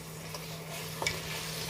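Ginger garlic paste frying in a pan for bagara rice, a soft steady sizzle with a brief stir and clink of a spoon near the end, no talking.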